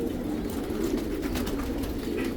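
Hungarian and Dutch homing pigeons cooing inside a loft on a large breeding farm: a dense, continuous murmur of low overlapping coos from many birds, steady and close throughout.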